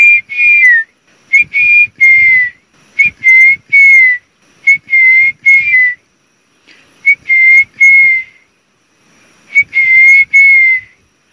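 A person whistles in imitation of a puff-throated bulbul, giving loud, clear, rising-and-falling phrases in bursts separated by brief pauses.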